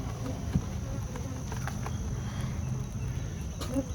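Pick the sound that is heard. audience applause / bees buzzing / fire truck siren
bees buzzing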